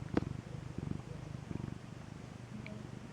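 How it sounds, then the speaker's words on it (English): Three cats snuggling together purr softly in a low, continuous rumble, faint and steady throughout with a couple of brief higher sounds. "Can I hear some of that purring action?"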